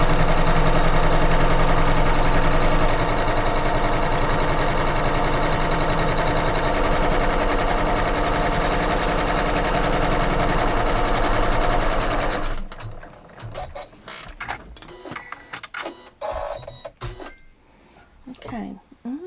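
A Kimberbell embroidery sewing machine stitching a pie block for a quilted pillow runs loud and continuous with rapid even whirring for about twelve seconds, then stops, leaving scattered handling clicks and a voice.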